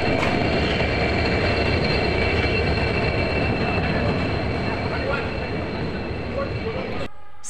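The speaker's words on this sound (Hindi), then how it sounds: "अभी मैं वेट कर रही हूँ ट्रेन के आने का" Train arriving at an Indian railway station: a steady, loud rolling rumble of wheels and carriages fills the whole stretch, ending abruptly near the close.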